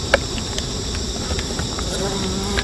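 Honeybees swarm around a beehive after the queen is placed inside, giving a dense, continuous buzz that stays close and even under a steady high whine.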